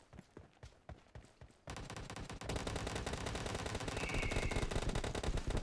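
Gunfire in the PUBG Mobile battle royale game starts as scattered single shots and then becomes a sustained, dense automatic burst that grows louder. It is close and continuous, with no talking over it.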